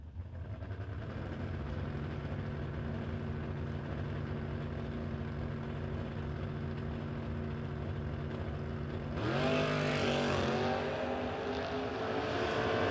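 Drag racing cars, including a Camaro, at a no-box 660 shootout: a steady engine drone idles at the strip, then a loud launch surges and rises in pitch as the cars pull away.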